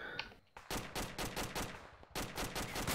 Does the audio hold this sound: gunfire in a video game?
yes